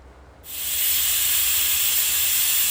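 A loud, steady hiss of escaping steam bursts in after a short quiet moment and continues unbroken, a pressure cooker whistling.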